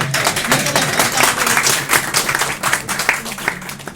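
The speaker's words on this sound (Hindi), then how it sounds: "तालियां।" An audience at a pension plan presentation claps in a dense, sustained burst of many hands, loud and close, with the rattle of individual claps running through it.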